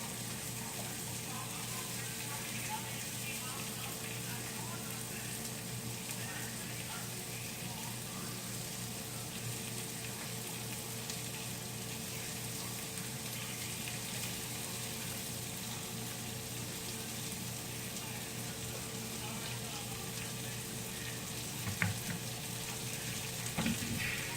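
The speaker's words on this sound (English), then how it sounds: "Brown these sausages." Smoked sausages brown in a pan with a continuous, even sizzle and soft crackle. The sound holds steady at a moderate level for a long stretch, with one brief sharper pop near the end and no talking.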